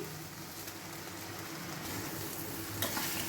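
Pulao rice fried with spices in a pan and gently stirred, giving a steady close sizzle with soft scraping throughout and no voices.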